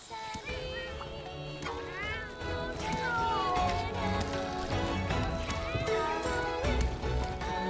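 Repeated cartoonish cat meows from the video game Monster Hunter Rise over busy background music, with rising and falling mewing tones; a voice may briefly speak in the mix.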